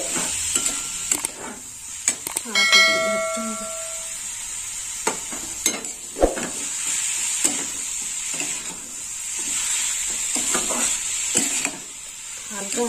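Grated coconut stirred in a pan for Bengali coconut sweets, a steady sizzling hiss with repeated soft scrapes and clinks of the spoon, close by, along with a brief faint tonal sound early on.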